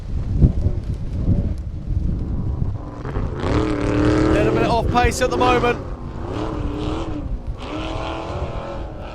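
An off-road race car tearing through the desert of southern Johnson Valley, California, during King of the Hammers qualifying, its engine roaring loudly and rising in pitch under continuous commentary.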